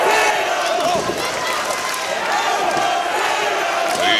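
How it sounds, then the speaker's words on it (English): A wrestling event crowd in Grand Prairie cheers and chants loudly, a dense roar of voices with rising whoops and yells that stays strong throughout. "you hear this Grand Prairie crowd getting behind Tatum Manning"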